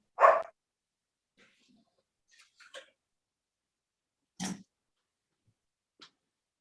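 A dog barking in a home during an online local government committee meeting, a loud bark at the start and then scattered fainter barks and yips heard alone.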